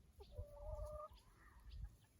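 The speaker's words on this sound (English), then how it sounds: "I have some of my chickens here saying hello." Backyard chickens cluck softly nearby, a few short drawn-out calls and low murmurs over a quiet outdoor background.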